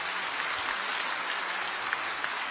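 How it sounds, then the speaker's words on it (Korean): A church congregation claps continuously, a dense, steady wash of applause at moderate volume with no voices standing out. "박수 한번 합시다, 박수 한번"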